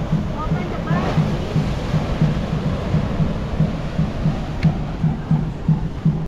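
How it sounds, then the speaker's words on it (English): Big ocean waves at the Costa Maya cruise port make a steady, loud, broadband rushing roar with a rhythmic low pulsing throughout. "Some big waves."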